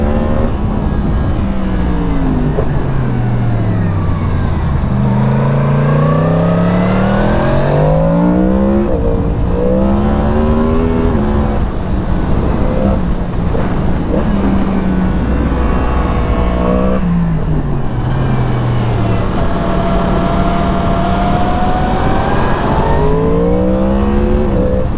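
A 2023 Yamaha MT-10 SP motorcycle engine with stock exhaust revs up and down repeatedly, loud and close, with rising and falling pitch sweeps and occasional crackles on deceleration.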